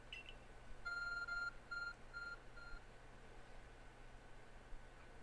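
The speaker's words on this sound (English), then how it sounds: "Your ARC phone is beeping." An ARC phone in Pokemon Legends: Arceus chirps a short series of soft electronic beeps, four or five clear tones in a quick rhythmic pattern over quiet background hiss, with no talking.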